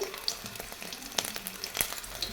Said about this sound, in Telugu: ఆ ప్యాన్లో తెల్లగడ్డ ముక్కలు వేసి కొద్దిసేపు వేగనివ్వాలి.